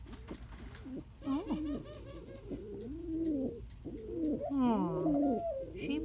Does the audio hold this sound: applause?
no